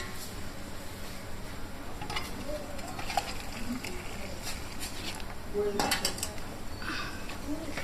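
A pot of syrup for ring mishti is lifted off a home stove: scattered metallic clinks and scrapes of pot and utensils at close range, with a voice speaking throughout.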